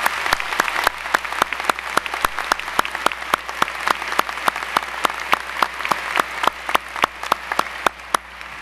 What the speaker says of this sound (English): Won't you join me in giving Margot another warm round of applause?